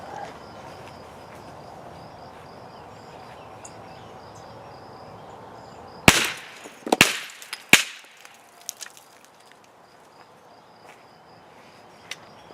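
Outdoors against a quiet hum of crickets, about three sharp, loud gunshots ring out in quick succession at plaster molds, followed by faint crackling and ticking as the plaster breaks up.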